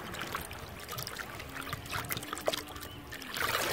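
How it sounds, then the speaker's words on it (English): A hand stirs water into a vortex for a biodynamic preparation, producing soft, close swishing and trickling with small splashes, quiet and continuous. "I like when doing this vortex stirring with the hand, how silky it feels at the end."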